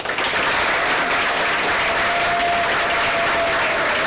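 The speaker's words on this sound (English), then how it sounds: "I want to give them a warm round of applause as they come up to the microphone" A school board meeting audience gives steady, sustained applause as two sixth graders from Humble Middle School come up to the microphone, filling the room evenly throughout.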